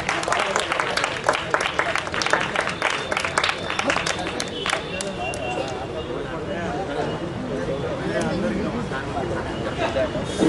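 An audience at a stage event at Ravindra Bharathi claps to welcome a performer, with dense applause strongest at first and then thinning into scattered claps and crowd murmur, with voices talking over it.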